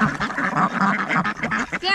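Ducks at Lane's Dam in Alexandra quack busily while being thrown bread, a dense overlapping chorus of loud, close calls with no pause.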